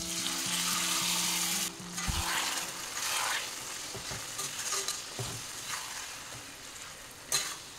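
Marinated chicken pieces sizzle loudly in a hot pan of oil with turmeric and tomato for a spicy chicken masala, a steady close hiss broken by the scrape and clatter of stirring.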